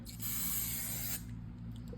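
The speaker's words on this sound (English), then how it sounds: "I'm gonna spray this glitter spray." A glitter spray can hisses in one steady burst of about a second, bright and close, then cuts off into quiet room tone.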